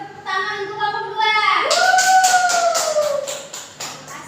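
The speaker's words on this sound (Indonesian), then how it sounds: "Ya, kita tepuk tangan untuk kelompok 2." A fourth-grade classroom breaks into a burst of group clapping for group 2 during a maths lesson, with a quick, irregular patter of hands under a child's raised, wavering voice.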